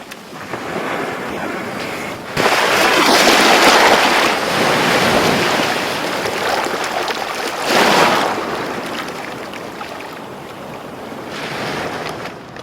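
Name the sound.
sea waves on a beach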